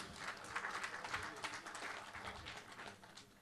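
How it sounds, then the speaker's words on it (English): A conference audience at a regulatory meeting gives a round of moderate, steady applause, many hands clapping together in a continuous patter with speech faintly audible beneath it. "Round of applause for you guys."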